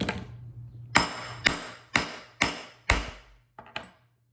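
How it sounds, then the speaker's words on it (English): A hammer strikes a metal dome setter over a rivet burr on leather, six sharp, loud blows spaced about half a second apart, each ringing briefly before the next, with no talking. "we'll use the dome piece, and we'll dome over the top of that. It gets loud."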